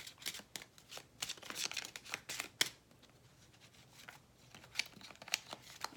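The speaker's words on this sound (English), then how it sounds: "We're gonna keep shuffling." Tarot cards being shuffled during a reading: repeated crisp riffling and flicking bursts, close and fairly quiet, with a short lull in the middle before the shuffling picks up again.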